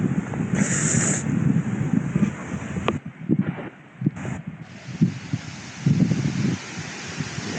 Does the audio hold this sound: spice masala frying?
no